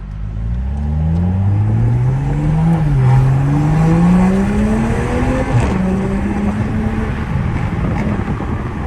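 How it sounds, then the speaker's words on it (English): A Toyota A91 Supra cruising with its windows down, its engine droning steadily and rising and falling in pitch under continuous cabin and road noise, while someone talks over it. "I'm driving with my windows down."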